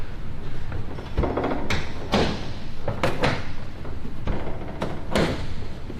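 A door on the C-47 "Tico Belle" swinging shut, several close, sharp thuds and rattling clatters spaced a second or so apart against a constant hum.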